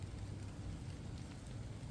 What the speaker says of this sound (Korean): 비가 오고 운무가 끼고 빗방울 소리만 들리고